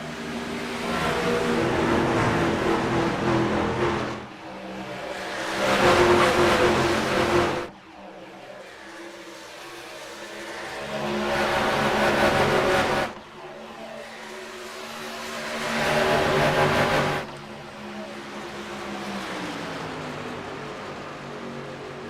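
Race cars circling Kansas in a VRX sim racing game, engines roaring loudly as packs pass, surging and fading in repeated waves with short quieter gaps between.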